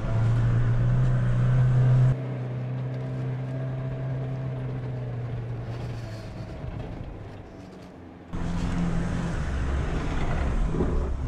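A new Mahindra Thar off-road vehicle climbs uphill with momentum, its engine droning loud and steady, dipping briefly in the middle before surging back up, with no talking.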